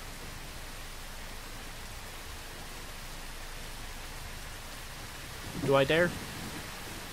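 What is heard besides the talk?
heavy rain in a video game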